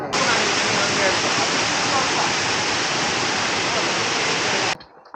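Steady roaring waterfall at Yercaud in Tamil Nadu, heard close up from its edge, loud broadband rushing water filling the clip before cutting off abruptly near the end.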